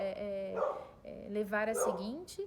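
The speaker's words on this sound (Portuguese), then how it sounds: "Perdão pelo cachorro latindo" A dog barking and whining indoors at home, several close yips and whimpers mixed in with someone speaking Portuguese during an online class.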